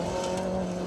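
A Ford Mark 1 Escort rally car, a two-wheel-drive entry at the Plains Rally 2023, runs its engine in a brief, steady, loud burst as it goes by on a rally stage.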